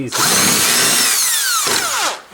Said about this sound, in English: easy way with this my impact driver